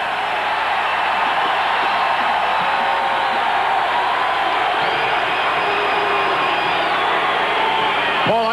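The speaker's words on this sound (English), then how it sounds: "Crowd certainly has come alive at the end of the 3rd quarter" A large stadium crowd at an Ohio State football game against Indiana late in the third quarter roars in a loud, sustained wash of cheering that holds steady throughout, with a brief whistle near the end.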